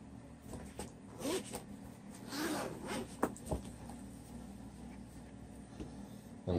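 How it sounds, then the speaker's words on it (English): A zipper closing around a JETech protective grip case for a Nintendo Switch, with a few close, short rasping pulls and light handling rubs, no talk. "it zips up just fine"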